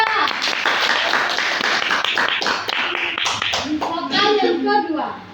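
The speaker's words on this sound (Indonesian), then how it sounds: "tepuk tangan untuk Siva" Classroom applause for a student, a burst of clapping from pupils that fades after a few seconds as voices and shuffling take over.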